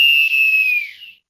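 A single long, piercing blast of a referee's final whistle, loud and steady, fading out after about a second.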